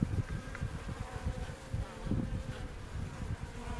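Honey bees buzz steadily inside an open beehive during an inspection, a dense low drone with fluttering swells of wing noise close by, no talking.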